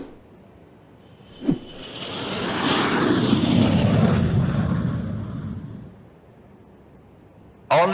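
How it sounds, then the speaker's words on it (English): An airplane passes overhead, its engine roar swelling from faint to loud and fading away over several seconds, with a sharp thud just before it builds and another abrupt hit at the end. "We need to send a plane for them."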